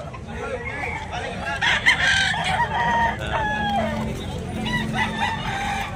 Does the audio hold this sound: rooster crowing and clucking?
yes